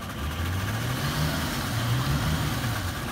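A car engine running steadily on a dyno machine, a continuous low droning hum with slight waver in pitch, close and moderately loud, no talking.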